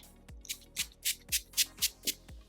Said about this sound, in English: I'm gonna use this NYX Dewy spray. This is a long-lasting setting spray, and set the face.